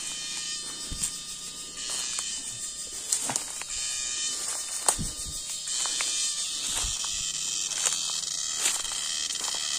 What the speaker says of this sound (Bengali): এই দেখেন দিনের মধ্যে ঝিঝি পোকা ডাকতেছে।